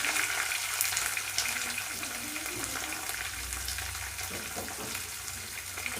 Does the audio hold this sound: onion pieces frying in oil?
yes